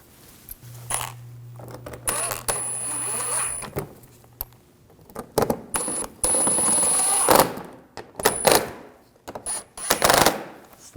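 Screws being started by hand while refitting a fog light assembly on a 2007-2013 BMW 328i: a string of close, sharp metallic clicks and small rattles in uneven bursts, with no talk.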